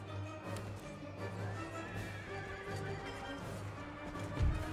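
Horses neigh and whinny amid hooves clip-clopping in an Empire: Total War battle, set against a dense, steady battlefield din, with one louder thump near the end.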